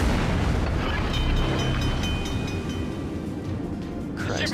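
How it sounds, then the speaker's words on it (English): In World of Warships, high-explosive shells strike a ship: a dense, loud rumbling roar of blasts and booms rolls on without pause, with a brighter burst near the end. "He's firing high explosive at me."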